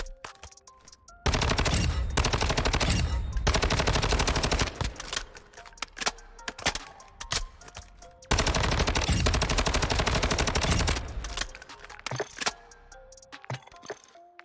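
Rapid automatic gunfire from the Havoc rifle in Modern Warfare 2, loud sustained bursts separated by short pauses, with scattered single shots and clatter between them.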